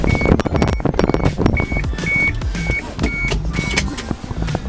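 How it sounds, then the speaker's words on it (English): A series of short, high electronic beeps from the car's system repeats at a steady pace over the hum and rumble of an LDV T60 interior while driving. "we all love that beep."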